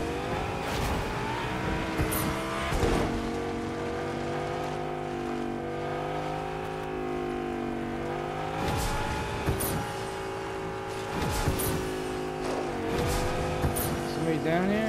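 A vehicle drives in the video game Fortnite with a steady engine drone whose pitch rises and falls as it speeds up, punctuated by occasional sharp knocks and bumps, while someone talks over it.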